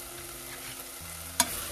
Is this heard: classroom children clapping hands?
no